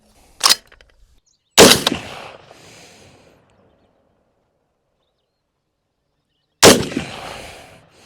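Three sharp rifle shots from a Bear Creek Arsenal .243 Winchester upper, loud and close. One comes alone, a second follows about a second later with a rolling echo, and a third arrives after a long quiet gap.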